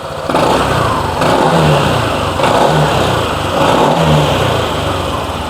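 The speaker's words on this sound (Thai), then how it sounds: "เดี๋ยวลองเบิ้ลกันสักนิดหนึ่ง" A Honda ADV 150 scooter engine with its stock exhaust idles close by and is revved three times in short bursts, the rough drone rising and falling between them.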